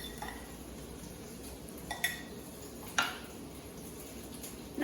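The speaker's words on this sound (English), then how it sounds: "Just mix it up really well, make sure all those flavors get together, and then add on this green onion, mix it in" A spoon mixes mango salsa with green onion in a bowl, giving a few faint clinks and scrapes against a soft background hiss. There is no talking.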